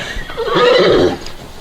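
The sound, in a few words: horse neighing while being saddled with a western saddle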